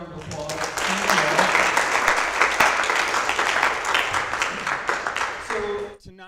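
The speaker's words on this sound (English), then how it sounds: "Everybody give them one more round of applause." A church crowd gives graduating seniors a round of applause, a loud swell of clapping and cheering that peaks early and fades out, with voices speaking at the start and end.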